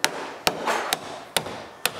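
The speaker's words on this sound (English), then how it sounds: "So I usually take the claw into the hammer and then I get the corner beat out first." A claw hammer knocking out drywall corner bead around a window opening during trim work; five sharp, close knocks land at a steady pace about half a second apart, with no talking.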